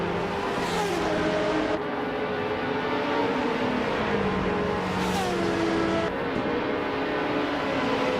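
Several 2012 Praga R1 race cars in a racing video game, their engines droning and shifting pitch steadily throughout with overlapping tones as cars run close together, no voices.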